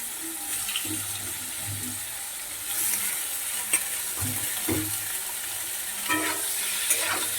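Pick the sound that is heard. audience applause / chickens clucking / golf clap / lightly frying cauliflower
lightly frying cauliflower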